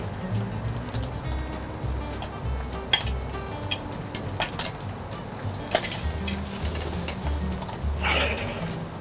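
Cooked casoncelli ravioli are lifted out of their water in a kitchen: metal utensils and pots clink in scattered sharp hits over a low bubbling and stirring background, with a brighter splashy rush near the end.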